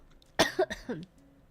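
A short burst of two or three quick, close coughs, fairly soft, with quiet around them.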